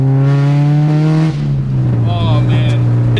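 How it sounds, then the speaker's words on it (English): A loud K-swapped Honda engine revs and drops with a deep steady exhaust drone, pitch falling midway then holding, close to the microphone. "You know how to make an exhaust for a K-swap. It sounds perfect."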